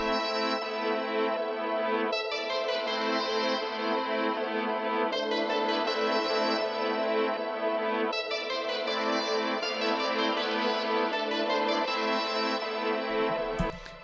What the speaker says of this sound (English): This lead sound right here is the low horn preset, and it sounds like this